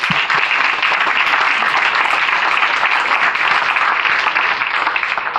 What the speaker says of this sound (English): let's give our panelists here a round of applause